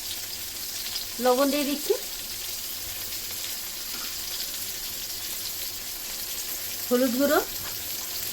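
Tomatoes and green chillies frying in a pan for a Bengali dish, a steady low sizzle running throughout while someone speaks briefly twice over it.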